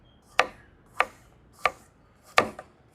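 A knife slicing raw cucumber into thin long strips on a cutting board for a wedding-style raw cucumber chutney, four crisp distinct chops at a steady unhurried pace, close and clear with no talk.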